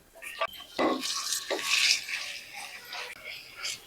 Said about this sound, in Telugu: ఇదంతా కలిసిపోయేటట్టు తిప్పుకోవాలి మనం